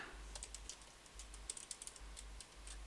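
Close, quiet computer-keyboard typing of Python code: irregular bursts of light key clicks with brief pauses, over a low steady hum.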